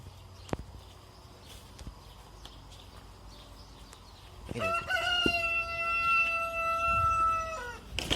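A quiet chicken yard with faint background noise and a few soft clicks, then a rooster crows loudly and nearby for about three seconds.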